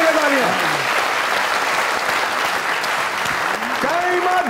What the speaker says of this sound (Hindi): हाथ ऊपर करके तालियां